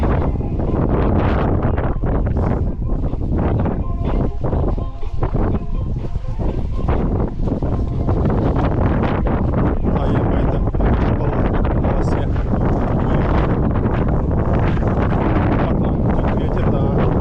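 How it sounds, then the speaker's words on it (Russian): Strong wind buffeting the microphone on an April hiking route in Crimea, a loud continuous roar and rumble with gusty fluctuations that fills the whole stretch and masks any other sound. "Тут ветер."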